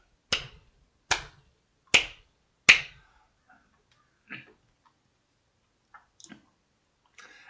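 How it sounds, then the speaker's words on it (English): Four deliberate, evenly spaced single hand claps ring out crisply in a quiet room, each sharp and close, followed by a few faint scattered clicks. "Slow clap."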